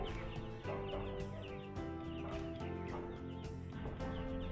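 Young chickens cluck and cheep continuously as a busy flock, the calls overlapping in a dense chorus that stays steady and close throughout.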